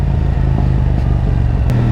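Motorcycle engine revving hard with a quickshifter gear change, a loud, close, continuous throbbing drone with a brief interruption as the gear snaps over.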